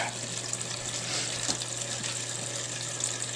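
Water runs steadily from a tap into a container being filled, a continuous close hiss and splash with a low constant hum beneath it.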